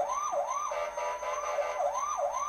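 Fire department siren wailing in a steady rising and falling cycle, moderately loud and heard from inside a taxi cab in city traffic, with no talking over it.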